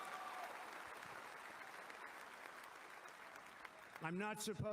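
A large crowd applauds steadily at a politician's first speech after the assassination attempt, the clapping sustained and even before a voice cuts in near the end.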